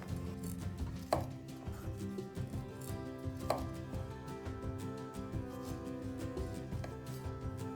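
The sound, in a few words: knife cutting a bell pepper around the core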